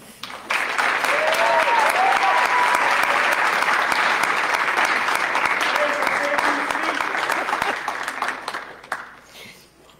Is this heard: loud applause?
yes